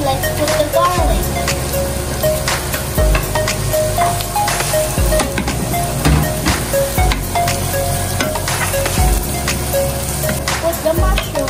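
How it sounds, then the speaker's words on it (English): Garlic fries in a hot pan, a steady crackling sizzle with scattered pops running throughout, close and fairly loud. "now we will put on the pan. And now let's put the garlic."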